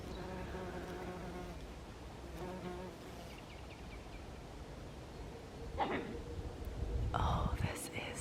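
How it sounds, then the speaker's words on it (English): Bees buzz around flowers in an English country garden, a soft steady hum in the open air with someone talking quietly over it. "The buzzing bees."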